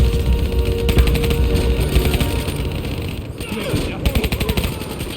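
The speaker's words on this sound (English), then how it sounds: "Give me some cover fire." Sustained automatic gunfire from Call of Duty: Black Ops 3 combat, loud and dense rapid bursts running throughout with engine-like rumble and voices over the battle.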